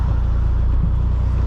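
Steady low road traffic rumble heard from inside a car, a continuous loud drone with no distinct passing vehicles and no talking.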